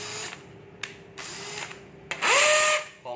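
Cordless drill, model 6901, a three-function hammer drill with two speeds and reversing, whirring in short bursts with a louder sustained run near the end.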